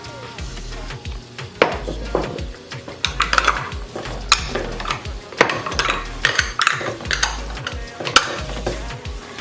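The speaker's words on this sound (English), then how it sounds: "And we're gonna give it a mix, just like that." Cilantro and garlic stirred into a cooking pot for Puerto Rican coconut curry oxtail, with repeated scraping and clanking of a utensil against the pot over a light sizzle, close and fairly loud.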